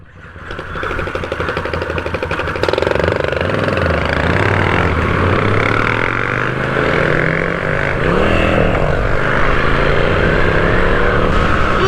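Moto Guzzi V7 motorcycle ridden at night, its engine droning loud and close with a pulsing throb that rises and falls as the revs change through gears.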